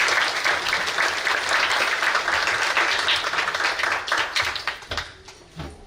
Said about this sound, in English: another round of applause, please, for Pandit Ji